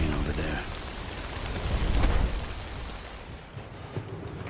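Rain falling in the game Death Stranding, a broad hiss with a deep rumble swelling in the middle, then thinning and quieting toward the end.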